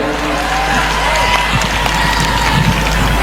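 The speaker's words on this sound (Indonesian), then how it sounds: "Boleh tepuk tangan dong, bahagia." A large crowd of university students applauds at a stage event, dense clapping filling the space with a continuous, loud wash of sound.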